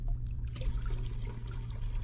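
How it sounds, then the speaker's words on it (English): Cream being poured into a pail, a continuous liquid splash and gurgle heard up close for a couple of seconds, with no talking. "I pour in the cream"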